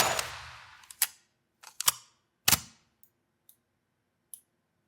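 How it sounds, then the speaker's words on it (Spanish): Gunfire and reloading in a Unity game demo: a burst of sharp shots at the start, then a few isolated cracks and light mechanical clicks of a reload, spaced out against silence. "Y si ahora volvemos a disparar, lo mismo. Ahora cuando vacíe el cargador, se pondrá a recargar."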